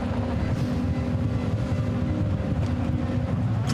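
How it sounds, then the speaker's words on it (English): Rallycross cars lined up on the grid at Mettet, Belgium, hold steady high revs with anti-lag running, a dense, continuous engine roar with crackling texture that barely varies, loud and close. "Revs rise, anti-lag on."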